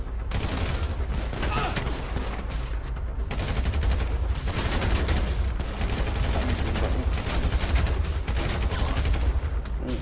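Sustained rapid gunfire from the GTA 5 video game during a bank robbery, with dense bursts of shots running continuously under game sounds and some voices.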